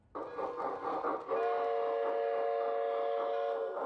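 A loud, steady train whistle blows with several sustained harmonic tones, starting softly and then holding strong for a few seconds over a rumbling background.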